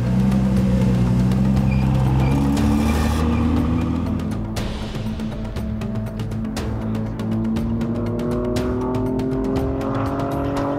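Ford GT supercar's mid-mounted 3.5-litre twin-turbo V6 heard close up on a race track, a loud raw engine note climbing and falling through gear changes, with turbo hiss and whooshes between pulls.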